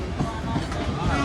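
Interior of a moving passenger train between Mumbai and Vadodara, a dense low rumble and rattle of the carriage with a faint voice mixed in.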